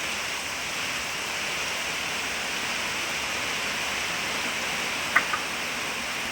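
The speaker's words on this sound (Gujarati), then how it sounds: "જો એકદમ દૂરથી વરસાદ આવ્યો" Steady rain hissing as it approaches from a distance, a constant, even wash of broadband noise with no voices and only a tiny click near the end.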